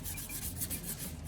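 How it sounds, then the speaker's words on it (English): Fine sandpaper rubs across the printed side of a CD in quick, quiet scratchy strokes, a soft rasping texture repeating over a brief moment. "Then sanded the printed side with finer sandpaper."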